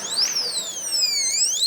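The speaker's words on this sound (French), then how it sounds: "Attendez, c'est une puissante sirène en principe." A personal attack alarm sounding its powerful siren, a loud, piercing electronic tone sweeping up and down in pitch, continuous and close with no voices over it.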